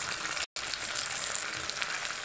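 Papaya and squash (kalabasa) cooking in a frying pan, giving a steady close sizzle with a brief gap of silence near the start.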